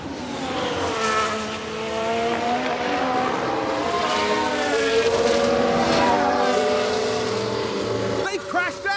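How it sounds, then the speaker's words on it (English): Racing car engines and squealing tyres from a crash in the F1 Manager 22 video game, a loud sustained engine whine with sliding screech, ending in a sharp jolt, with a voice talking over it. "They crashed out!"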